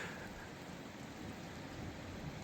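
Heavy rain and wind pour down steadily during a February storm in Isère, a dense continuous hiss with no talking.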